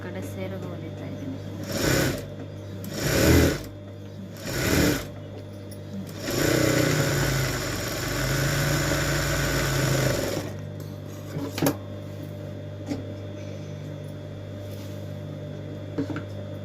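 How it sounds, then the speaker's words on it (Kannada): Sewing machine stitching along a saree pallu edge, loud and close, running in several short bursts and then one longer steady run, with a steady hum underneath and stops in between. "ಸೆರಗು ಒಂದು ಕಡೆ ಸೆರಗು ಹೊಲಿತಾ ಇದ್ದೀನಿ."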